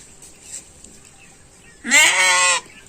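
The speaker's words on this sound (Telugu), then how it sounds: "గొర్రె పిల్లలు." White lambs give one loud, close, wavering bleat lasting under a second, after a quiet stretch of faint background noise, at a home during a village Yellamma festival.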